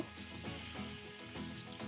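Fish pieces fry in hot oil, turned partway to brown until crisp, giving a steady dense sizzle with soft bubbling pops throughout, close and continuous with no voices.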